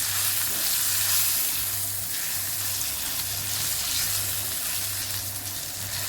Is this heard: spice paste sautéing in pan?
yes